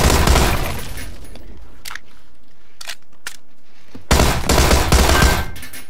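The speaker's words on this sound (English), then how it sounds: "With a Tommy gun?" Tommy gun bursts in PlayerUnknown's Battlegrounds, a loud rapid volley at the start, a few sharp isolated shots in the quieter middle, then another dense burst of automatic fire near the end.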